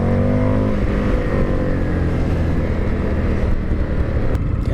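A 2020 Indian FTR1200 motorcycle accelerates hard, its engine roaring loud and close in a continuous rising drone with dense harmonics and wind rush, heard alone without speech.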